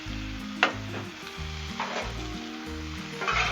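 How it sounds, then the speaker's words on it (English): Bacon sizzling on a Blackstone griddle, a loud, close, continuous crackling hiss with a few sharp pops and scrapes, no voices. "Let's get all the bacon down."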